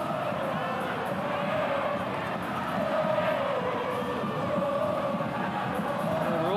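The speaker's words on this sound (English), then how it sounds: "We're almost cheering a second goal there, Chateau" A football stadium crowd roars continuously through an AFC Champions League Two match between Pohang Steelers and Gamba Osaka, a dense, steady wall of cheering and noise that swells slightly midway.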